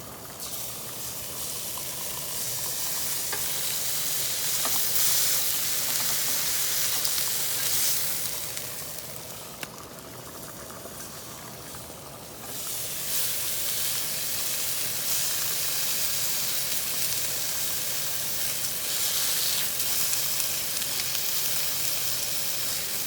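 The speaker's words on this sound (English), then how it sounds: "I'm going to turn each piece over and put it down and give it a chance to" Veal saltimbocca sizzles in a hot pan, a steady close hiss of frying that briefly dips in the middle before surging back and continuing strongly.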